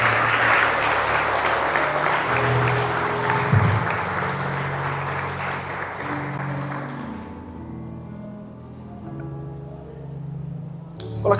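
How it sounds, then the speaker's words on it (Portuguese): A church congregation applauds in a dense wash of clapping that gradually thins and fades out, with a low murmur of voices and a final faint tap at the end. "Você pode aplaudir o nome do Senhor Jesus."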